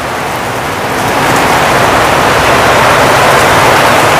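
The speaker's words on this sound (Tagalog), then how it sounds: "Kaya nga eh, nag-ulan na." Steady rain falls continuously, a dense broadband hiss that swells slightly after the first second and then holds loud and even, with no voices.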